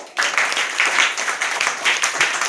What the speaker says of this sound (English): Claps.